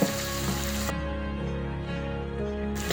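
Green chilies, garlic and bird's eye chilies sauté in a pan for a mango-ginger pickle, a continuous close sizzle with light stirring and no speech.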